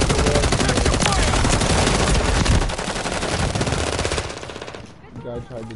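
Rapid automatic gunfire in the shooter game Call of Duty MW3, dense loud bursts of shots rolling continuously, then tapering as a voice briefly speaks near the end.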